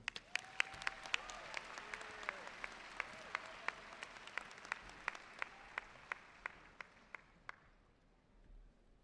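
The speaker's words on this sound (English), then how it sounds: "Please give a warm Rattler round of applause and warm welcome to your commencement speaker this evening" Commencement audience applause in a hall: loose, scattered clapping with distinct individual claps that thin out and stop after about seven and a half seconds, with faint murmuring voices underneath.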